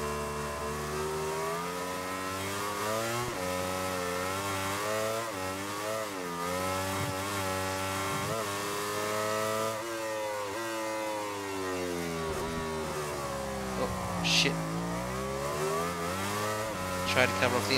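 Racing motorcycle engines howl and shift pitch continuously in MotoGP 17, a Ducati and a Yamaha battling through the 2018 USA Grand Prix, the engine note rising and falling steadily while a voice talks over it.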